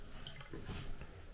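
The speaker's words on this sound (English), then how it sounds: "this is our hot tap, and we're not getting any hot water really. Very poor flow" Hot water tap on a home fed by a ten-year-old Vaillant EcoTec Pro 28 combi boiler, running with very poor flow: a faint, thin trickle and dribbling splash close by, steady and weak throughout.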